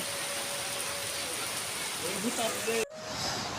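Rain falling steadily around a flooded house, a continuous soft hiss of drops on surfaces and water, with faint voices and a brief knock near the end.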